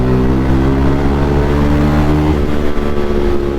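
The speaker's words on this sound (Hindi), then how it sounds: "चलो अब साउंड सुना दो तुम्हें बाइक का।" A motorcycle engine on a Sunday ride runs close and loud, its steady droning tone holding firm before shifting and roughening partway through as the revs change.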